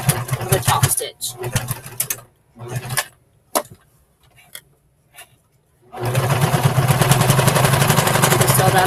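Sewing machine stitching a fabric seam along a top-stitched edge, running in loud rapid bursts at the start, stopping and starting between quiet pauses, then running steadily again near the end, with a voice talking partway through.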